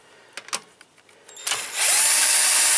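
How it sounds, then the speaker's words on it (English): A few light clicks and taps, then a cordless drill whirs up loudly and runs steadily at high speed, close by, removing bolts from the rear brakes of a 1999 Honda Civic, with no talking. "just get yourself like a cordless drill"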